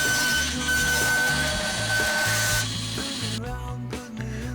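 A power saw rips an angled edge off a piece of wood being shaped into a wooden cup, a loud steady whining cut that drops off after a few seconds into a lighter spinning-down rattle.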